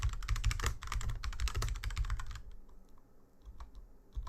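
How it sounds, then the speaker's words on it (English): Fast, steady typing on a computer keyboard, a dense run of close key clicks that stops partway, leaving quiet room noise with a few stray taps. "I'm trying to also get like faster at typing."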